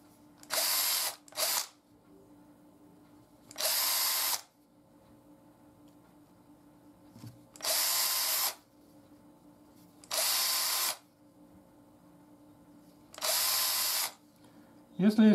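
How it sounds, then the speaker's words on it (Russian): A power drill whirs in five short bursts of about a second each, drilling a hole in a knife sheath, separated by quiet pauses, close and loud. "Переворачиваем, сверлим отверстие."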